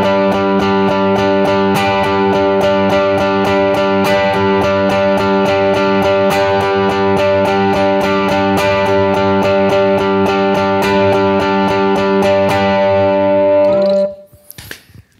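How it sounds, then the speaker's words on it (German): Electric ukulele strummed in a rock style through a mild distortion effect, loud and continuous with steady rhythmic chord strokes, ringing out and cutting off near the end. "Ein bisschen mehr Rockfeeling kriegen wir mit einer Verzerrung."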